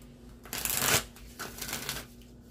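Deck of tarot cards bridge-shuffled close by: two riffling bursts of cards fluttering together, each followed by a softer settling cascade, alone without talk.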